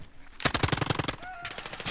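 An LMG light machine gun firing in Call of Duty: a rapid, steady burst of roughly a dozen sharp shots, a brief pause, then another quick burst, moderately loud with faint game sounds underneath.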